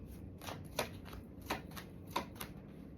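Tarot cards are shuffled and drawn close by. Crisp, papery riffles and sharp snaps come in a quick, irregular series with no talk.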